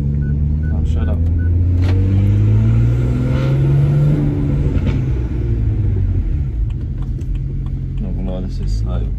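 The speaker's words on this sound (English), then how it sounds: "Need to make the revs high so it doesn't stall." BMW N54 engine with a newly fitted twin-plate organic clutch, revving up and holding high rpm with a rising, droning rumble, then easing off; someone talks over it near the end.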